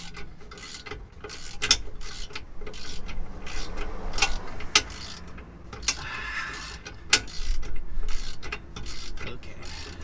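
A hand ratchet clicks rapidly while tightening bolts on a twin turbo Mustang, a close, steady metallic chatter broken by sharper snaps and scraping handling noises.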